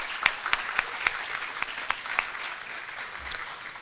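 Scattered hand claps from a modest audience at a guide dog class graduation, a few distinct claps spaced out over a quiet room and fading away, with no talking.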